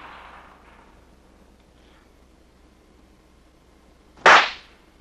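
A firecracker explodes in one sudden, loud, sharp burst after a long, quiet stretch of faint hiss, the blast decaying quickly.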